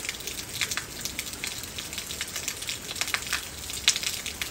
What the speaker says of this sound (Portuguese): É chuva, chuva,